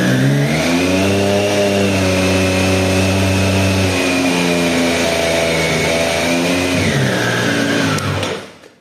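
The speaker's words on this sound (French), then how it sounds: "Je vais accélérer jusqu'à arriver à 3500 tours minute." A 2024 Triumph Street Triple 765 R motorcycle engine in break-in mode revs up to 3500 rpm and holds a steady high pitch, then the pitch drops slightly before it cuts off abruptly at the end.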